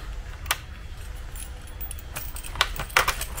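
A set of keys for an electric bike being handled, giving a few separate metallic jingles, a short one early and a couple of louder rattles near the end, close up over a low hum.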